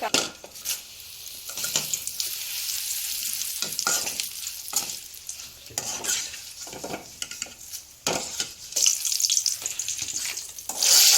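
Okra and curry leaves fry in a pan, a steady hiss and crackle of hot oil broken by repeated scraping stir strokes, close and fairly loud, with some clinking of utensils.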